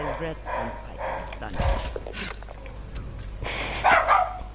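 A dog gives several short barks and yips, moderately loud, interspersed with overlapping voices of people talking.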